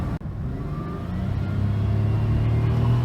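A Pontiac Bonneville SSEi with a V6 engine accelerates hard from inside the cabin, its rumble climbing steadily and growing louder as the car picks up speed, with no voices.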